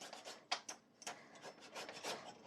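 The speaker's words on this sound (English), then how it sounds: "10 back and forth on the nutmeg" Nutmeg grated on a rasp, with soft rhythmic back-and-forth scraping strokes close up, quiet and alone.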